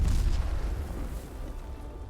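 Ship cannon fire during a gun drill aboard a Royal Navy vessel in a video game, a deep rumbling boom fading out over about two seconds, with no speech.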